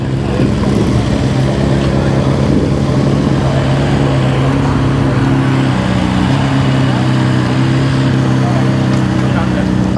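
Ducati motorcycle engine running steadily while being ridden, a loud constant drone with a low hum, with someone talking over it throughout.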